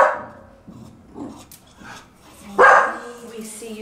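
Rescued pit bull puppy gives a short bark or yip partway through, close by, amid soft sounds of people talking nearby.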